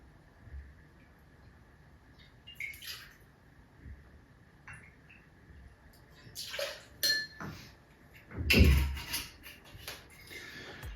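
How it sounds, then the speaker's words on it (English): Four Roses bourbon, two ounces, poured into a cocktail glass: a soft liquid pour with scattered glassware clinks and one louder knock near the end, quiet and close, with no talking. "I'm using 4 roses today, and I'm adding 2 ounces or 60 mils."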